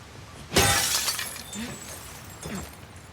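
In The Last of Us Part 2, a loud close burst of shattering glass trails into tinkling shards, with a second, lighter crunch of glass about two seconds later.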